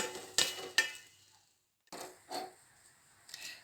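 Stirring milk into ghee-toasted bread in a pan, a few brisk scraping and sloshing strokes in two short bursts separated by a pause, close and fairly quiet with no talking.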